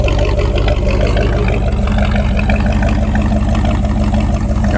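An abandoned Dodge Power Wagon service truck's engine runs loud and close with a rough, steady rumble and slight rises in revs throughout.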